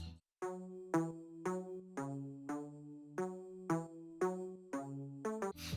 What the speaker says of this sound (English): I just wanted this digital bit crusher effect